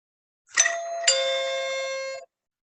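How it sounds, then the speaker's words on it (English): A doorbell chimes clearly in a quiet room, two ringing ding-dong tones with the second sustaining and fading over about a second before stopping. "That's when the doorbell rang."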